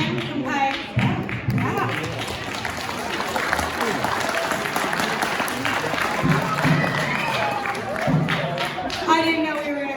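A school auditorium audience applauds and cheers for a high school symphonic band, a dense, loud wash of clapping with scattered whoops lasting throughout, with voices audible in the crowd.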